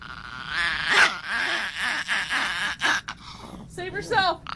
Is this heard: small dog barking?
yes